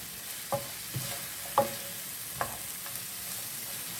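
Onions sauté in a pan for an Irish potato quiche, making a soft, steady sizzle punctuated by a few sharp utensil taps and stirring clicks, close and moderately quiet.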